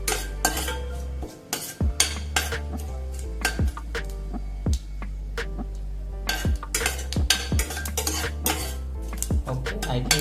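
Ladle stirring and scraping a tempering of spices in a metal pot for pav bhaji khichdi, with repeated sharp clinks and knocks against the pot in an irregular rhythm, close and fairly loud.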